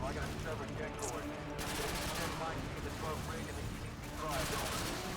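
Weapon fire in the shooter game Call of Duty: Modern Warfare 2 during a speedrun, with dense, crackling bursts of shots that run steadily through the moment and swell again near the end.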